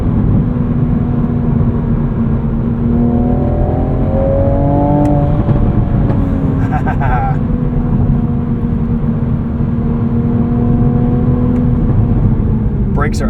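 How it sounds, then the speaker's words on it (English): 2024 Toyota GR Supra 45th Anniversary Edition with six-speed manual and auto rev matching: a loud, steady engine drone from inside the cabin, with rising and falling rev blips around the gear changes and a voice talking over it. "Auto rev matching works really well."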